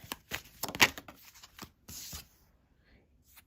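Close, crisp riffling and slapping of tarot cards being shuffled, several quick bursts then softer rustles tapering off.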